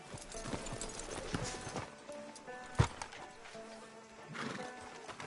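Horse hooves clip-clop at a steady walking pace over a busy ambient backdrop in Red Dead Redemption 2, with a sharp thud midway; no voices.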